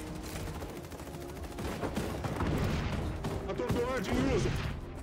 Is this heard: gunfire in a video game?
yes